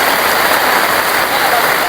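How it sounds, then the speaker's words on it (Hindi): Heavy evening rain pours steadily near a market and bus stand in a dense, even hiss, loud and close, with no breaks throughout. "बहुत ही तेज़ बारिश हो रही है, बहुत ही तेज़।"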